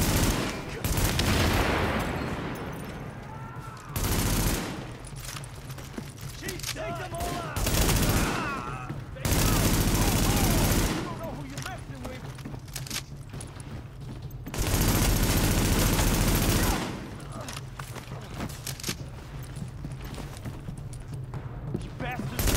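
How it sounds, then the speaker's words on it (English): Heavy gunfire in the video game The Division: loud bursts of automatic fire and rattling shots come in repeated volleys separated by quieter gaps, with people talking in between and over the shooting. "Party's taking heavy fire from the roof."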